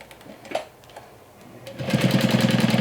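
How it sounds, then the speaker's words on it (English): A sewing machine stitches a drawstring channel in woven fabric, sewn an eighth of an inch from the edges; after quiet handling sounds, the motor starts near and loud around the two-second mark, running in a steady fast buzzing rhythm to the end. "So I'm going to be creating the drawstring by sewing 1/8 of an inch along all ends."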